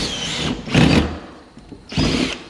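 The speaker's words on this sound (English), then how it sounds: "Here we go, first drills." A power drill drives fasteners to mount wheels onto a trough, in two loud, close bursts of whirring with a short quieter gap between them, and no talking.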